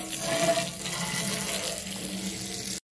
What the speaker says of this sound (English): Let's go ahead and rinse it off with water, dry it off